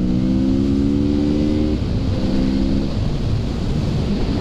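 A 2017 Kawasaki Z650 motorcycle accelerates hard to pass a truck, loud and close, its engine note climbing through gears with a brief dip between pulls under rushing wind.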